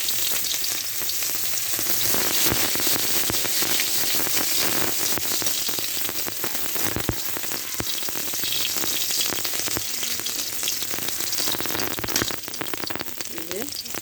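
Chopped onion and garlic cloves sizzle loudly in hot frying oil, a dense continuous crackle like heavy rain with occasional stirring pops, close up and unbroken throughout with no voices.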